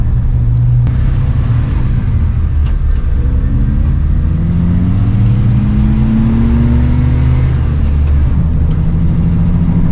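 A car on new DOT tires strains with the accelerator floored on ice, its engine droning loud and steady while the pitch slowly climbs and settles in a sustained whining rev, with no talking.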